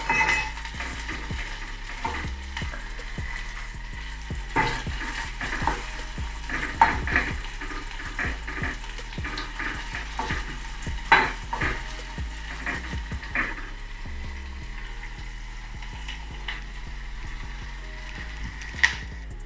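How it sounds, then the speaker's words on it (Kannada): Onions frying in a pan for mango chutney, a steady close sizzle with intermittent stirring scrapes and clinks running throughout, no voices. "ನೋಡಿ ಇಲ್ಲಿ ಈರುಳ್ಳಿ ಫ್ರೈ ಮಾಡ್ಕೊಂಡಿದ್ದೀನಿ."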